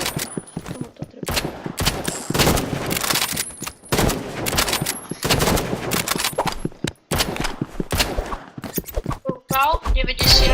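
Rapid bursts of gunfire from the video game Rivals, including revolver shots, crack loudly in clusters of quick repeated shots with short pauses, mixed with game effects and players talking over them.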